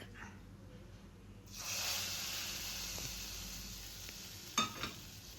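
Chilli powder hits hot coconut oil for a pumpkin curry, bursting into a steady, close sizzle that holds evenly, with a couple of small clicks near the end.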